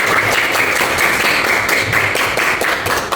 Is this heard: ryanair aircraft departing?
no